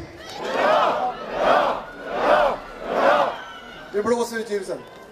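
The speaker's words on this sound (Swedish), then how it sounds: "Ett fyrfaldigt leve för Filipstad!" A crowd at Filipstad's 400th anniversary celebration roars four loud, evenly spaced cheers in a row, each swelling and falling, followed by a short burst of laughter and chatter.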